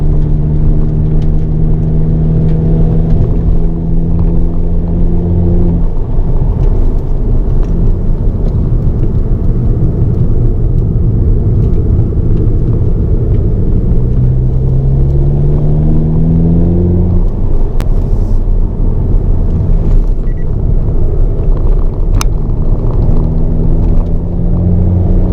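A car engine on a race circuit during a track day, loud and continuous, revving up through gears with rising pitch sweeps and shifts, droning steadily throughout.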